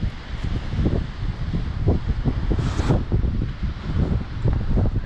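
Strong wind buffets the microphone outdoors during metal detecting with a Minelab Equinox 800 in nasty weather, producing constant low rumbling gusts and rustling close to the mic.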